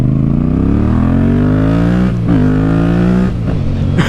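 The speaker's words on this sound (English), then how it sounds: "you put an aftermarket exhaust on this, woo! Sound like I got me a Harley Davidson." Yamaha MT-07 motorcycle fitted with an aftermarket exhaust, loud and close, engine note rising steadily through a long rev, then dipping and climbing again in short bursts.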